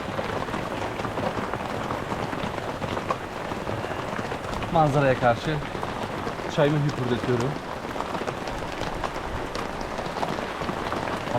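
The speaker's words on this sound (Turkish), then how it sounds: "Abi mı da nasıl yağıyor ya? Bu nasıl bir yağmur ben anlamadım." Heavy rain pours steadily onto surfaces in a village, making a dense, continuous patter throughout while someone speaks briefly over it.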